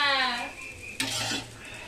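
Food frying in oil in a pan being flipped and stirred, with a loud close sizzle, a sharp clatter of the utensil against the pan midway, then continued hissing.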